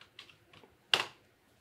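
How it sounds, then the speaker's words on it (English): A few quiet, isolated key taps on a wireless keyboard near a USB-C docking station, two soft clicks followed by one sharper, louder press, in a quiet room. "So that has woken it up just using the wireless keyboard and mouse."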